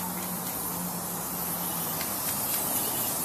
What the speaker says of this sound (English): We used grape foam and sprayed it on there, and then we're spray painting them black.